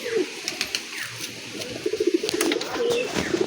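Kaldama pigeon cooing nearby in repeated low throaty phrases, a steady run of soft coos with a few faint chirps and clicks around them, and no one talking.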